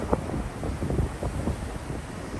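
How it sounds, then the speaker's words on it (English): Strong wind buffets the microphone with low, rumbling gusts that surge and roar continuously throughout, loud and close, on a street in Nihonbashi, Tokyo. "Yes, Chris, it's really windy."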